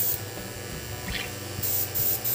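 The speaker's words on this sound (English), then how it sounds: "Spray a little." A spray bottle mists green colouring mixed with gin or vodka onto a sugar or cold porcelain sunflower, giving a steady close hiss with a few short bursts near the end.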